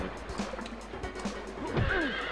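A horse whinnies during a centaur ride in the game Disney's Hercules, with galloping hoofbeats and game effects. Loud neighs sweep up and down, strongest near the end of the short stretch.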